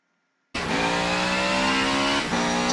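A 2017 Porsche 919 race car in the Forza 7 racing game fires up after a moment of silence into a loud, steady, high-pitched engine drone with a brief dip like a gear shift near the end. No one talks.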